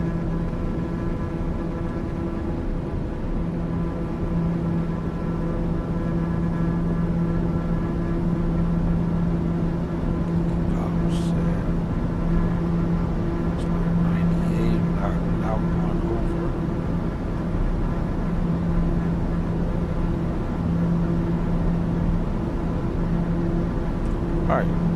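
A Daher TBM 930 turboprop engine runs at full power in a flight simulator, a steady droning whine with constant tonal hum throughout, with someone talking over it.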